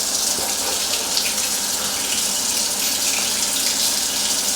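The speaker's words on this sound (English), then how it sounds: "So just feel the water a little bit, wait till it gets warm." Tap water runs steadily into a kitchen sink, a bright continuous splashing rush, close and even throughout, with no voices.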